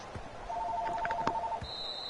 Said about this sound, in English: Andy, answer the phone.